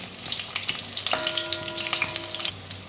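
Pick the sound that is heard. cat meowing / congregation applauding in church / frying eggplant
frying eggplant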